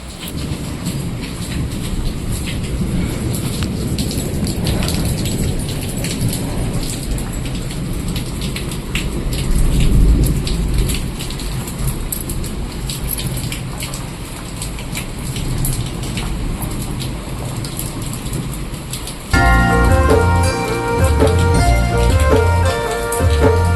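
Heavy rain pours steadily on surfaces with rolling thunder rumbling throughout, close and loud, during a storm in Uttarakhand; in the last few seconds a song with music starts over the downpour.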